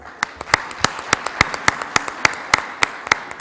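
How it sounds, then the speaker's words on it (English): Audience applause at a TiE Pune healthcare summit: sharp, separate hand claps in a quick, fairly steady rhythm, as if from a modest number of people, over a faint room murmur. "And have a big round of applause for all of us."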